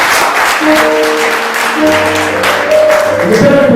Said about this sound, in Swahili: Pigie makofi mazuri.